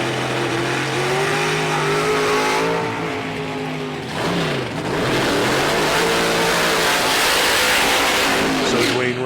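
Pro Stock drag race cars at a PDRA Northern Nationals qualifying session roar continuously, engines revving hard and surging through a launch, loud and close, with crowd and commentary noise blended underneath.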